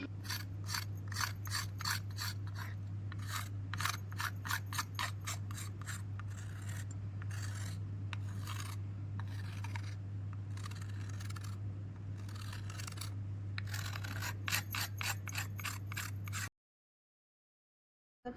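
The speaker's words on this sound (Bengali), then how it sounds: "সবজি ধোয়া হয়ে গেছে বন্ধুরা, এবার সবজিগুলো কেটে নিই।" Vegetables are cut with a knife, producing a long run of rapid, evenly spaced crisp chops and slicing scrapes over a steady low hum, then sudden silence.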